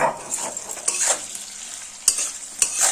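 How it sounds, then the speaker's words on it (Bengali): Flat beans fry in a pan with a soft, continuous sizzle, punctuated by a few scraping stirs of a spatula. "যতক্ষণে শিমটা ভাজা হচ্ছে"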